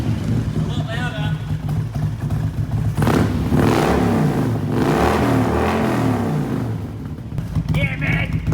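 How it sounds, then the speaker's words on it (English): A noisy two-cylinder 50 horsepower engine revs up loudly nearby, its rough low drone rising and falling in surges while people talk over it. "50 horsepower's never been so noisy."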